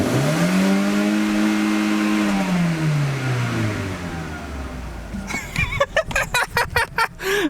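A Volkswagen engine runs after its misfire was fixed with an LS plug wire. A revving tone glides down and settles, then breaks into a quick string of uneven, chugging pulses near the end.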